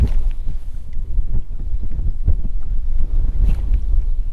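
Wind gusting over a lake while fishing from a boat on Lake Sakakawea in fall, a loud, continuous buffeting rumble with irregular thumps and slaps, close to the microphone and alone.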